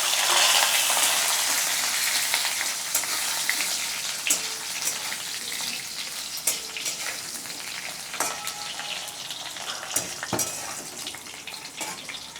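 Potatoes fry in hot oil with cumin seeds and a bay leaf, a loud, steady close sizzle that slowly settles, dotted with scattered crackles and pops and a few stirring clinks.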